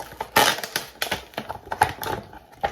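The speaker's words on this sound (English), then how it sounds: "So we got to cut it with some scissors and get in there and pull it out." A rapid series of crisp snips and crinkles as scissors cut through stiff plastic packaging around a smoke alarm, close up with uneven rhythm.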